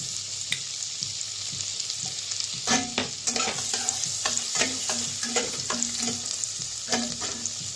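Chopped garlic frying in melted butter for white sauce pasta, a soft continuous sizzle broken by repeated rhythmic scrapes of a spatula against the pan, close up and with no talking.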